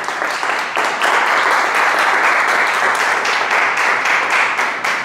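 Steady, loud applause fills a room as an audience at a Hebrew language course claps continuously at close range, with no speech over it.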